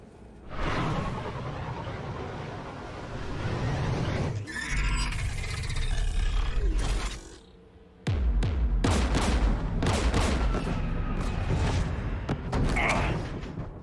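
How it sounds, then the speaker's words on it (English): Gunfire and heavy combat effects from Mass Effect Legendary Edition burst in loud, dense volleys with whooshes and mechanical clanks, briefly dropping out near the middle before another rapid flurry of shots resumes. "We're taking fire."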